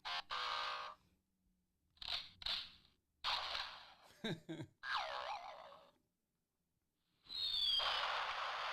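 A novelty sound box plays a series of effect bursts: whistling falls and booming blasts, separated by short gaps and silences, ending in a sustained loud explosion-like rumble with a whistling sweep.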